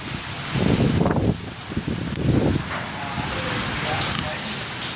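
Strong storm wind drives rain across a village veranda in Gujarat, loud gusts buffeting the microphone in heavy bursts over a continuous hiss of falling rain.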